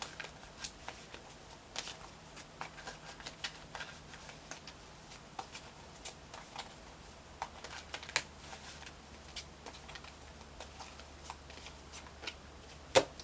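Crystal and gemstone oracle cards are shuffled up close, giving a soft, continuous riffling with small irregular flicks and taps throughout, with no speech.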